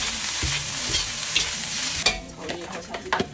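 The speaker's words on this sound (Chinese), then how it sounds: "炒蛋炒饭也是个必死活呀，要给它多炒一会儿啊，炒到女人在锅里跳舞就行了" Egg fried rice being stir-fried in a wok, with a steady close sizzle under scraping and tossing strokes of the spatula and a few sharp clinks against the pan.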